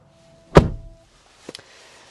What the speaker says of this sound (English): as I shut up the door